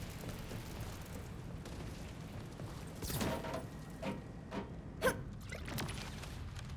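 A grenade detonates in the Borderlands video game amid steady background game noise, giving a couple of sharp booming bursts with smaller pops trailing after, moderately loud and with no talking.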